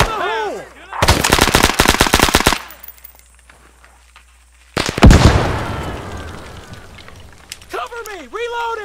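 Automatic gunfire in SOG Prairie Fire rips out as one long rapid burst, followed after a pause by a heavy blast-like boom that slowly decays, with whistling tones at the start and end.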